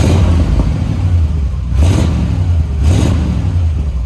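A 1940 Ford pickup engine idling loudly and close with a steady low rumble, given two brief revs from the rear that swell and fade.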